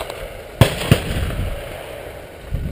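Two sharp shotgun reports crack out in quick succession at a sporting clays range, fairly close, followed by a lingering low outdoor rumble.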